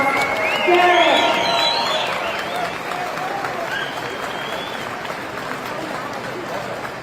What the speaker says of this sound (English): Please welcome him to the stage with a big round of applause